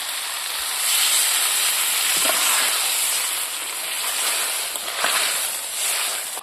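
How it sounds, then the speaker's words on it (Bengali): Water poured into a pan of spicy goat liver, lung, kidney, heart and brain bhuna sends up a loud, steady hiss that swells and eases over several seconds. "এখন আমি সিদ্ধর জন্য হালকা করে জল দেবো।"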